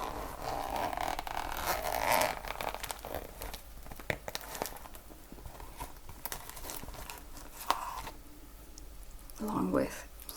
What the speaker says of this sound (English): In a little zipper bag.